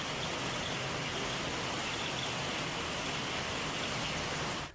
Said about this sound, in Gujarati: અમદાવાદના કેટલાક વિસ્તારોમાં વરસાદ વરસી રહ્યો છે।